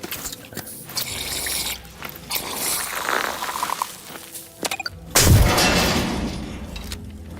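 An explosion in the video game The Outer Worlds 2 bursts out loud and sudden after a stretch of clattering game sounds, then rumbles on for a couple of seconds, with no talk.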